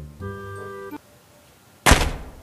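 A snowman falling in the game Melon Playground: a short tonal chime-like tone followed after a pause by a single loud, close thud.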